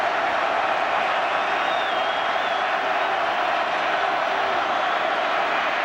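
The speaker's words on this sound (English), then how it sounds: "Crowd is up and making a lot of noise." Football stadium crowd during a 2004 ACC college game, a loud, steady roar of cheering and noise with no break.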